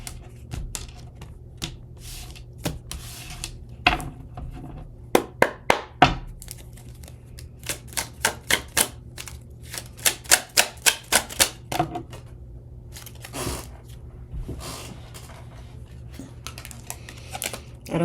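Tarot cards being shuffled by hand, a run of crisp, rapid flicks and riffles coming in uneven bursts with short pauses between, close and fairly quiet, with no talking.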